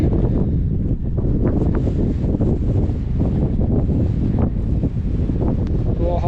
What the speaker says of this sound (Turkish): serin esen güzel bir rüzgar var.